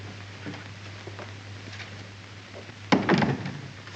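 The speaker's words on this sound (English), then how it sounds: "Shut the door, please, Elizabeth" A room door is shut in an old house: faint background hum and light shuffling, then one sharp close with a short rattle near the end.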